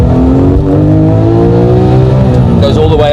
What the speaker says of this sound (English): That engine though, listen to this.